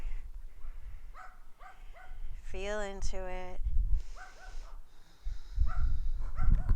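A small dog whimpers and yips in short high cries, a few of them close together, while a calm voice talks over and between them during a gentle yoga flow.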